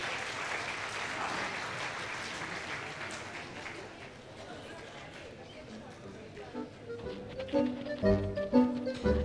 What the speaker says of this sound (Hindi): चलिए जोरदार तालियां हो जाए सूरत टीम के लिए।